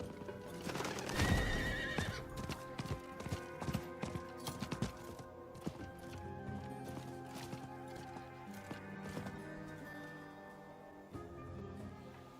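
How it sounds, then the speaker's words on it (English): Horse sounds from the Diablo 4 video game: a loud whinny near the start, then steady clip-clop hoofbeats of a mount running fast, alone with no talk. "if you use multiple horse charges at once, your horse now runs really fast?"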